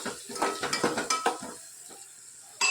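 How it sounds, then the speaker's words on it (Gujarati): A spatula stirs gravy seasoned with coriander-cumin powder, red chili, asafoetida and salt in a pot, giving a quick run of rhythmic scraping strokes that fades into quiet before a sharp clank of metal at the end. "સરસ બધું મિક્સ કરી લઈએ."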